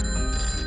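A telephone rings with a steady, bright electronic tone, loud and continuous through the short moment, with no talking over it.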